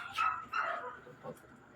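A dog gives two or three short, high yelping barks close by, then the sound fades into quiet background noise.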